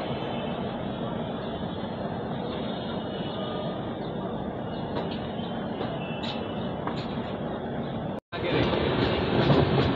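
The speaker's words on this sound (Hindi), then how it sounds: "तो जी काफी अच्छी रफ्तार में हम लोग स्किप कर रहे हैं काशी रेलवे स्टेशन को।" Secunderabad-Danapur Express passenger train running fast past Kashi railway station, a steady loud rumble and rattle of the carriages throughout with a brief dropout near the end, heard from inside a 3rd AC coach.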